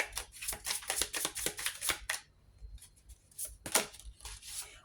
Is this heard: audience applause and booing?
no